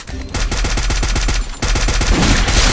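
Rapid automatic AK rifle fire in the mobile game Free Fire, loud close bursts of evenly spaced shots with a short pause before a second burst, ending in a noisy wash.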